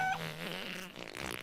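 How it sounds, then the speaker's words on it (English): A fart sound in a cartoon-style scene, a short, low, wet rasp with a fluttering buzz that trails off over about a second, fairly quiet and heard alone. "For example, I'm about to fart right now."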